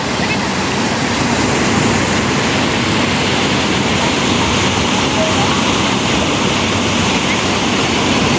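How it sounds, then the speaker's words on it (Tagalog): Loud, unbroken rush of churning sea water from a boat at Cyberport, Hong Kong, a dense constant wash of strengthening waves with no voices and no pauses. "Lumalakas yung alon."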